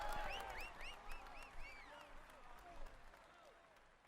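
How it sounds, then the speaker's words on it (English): Crowd applause in the PS4 game Tour de France 2016 rattles steadily and gradually fades, with someone talking over it. "let's applaud him once more."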